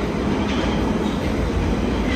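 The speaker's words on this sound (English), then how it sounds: "Getting on the tube." A London Underground tube train rumbles steadily with a continuous loud roar of wheels on rails, heard from inside the carriage with no talking.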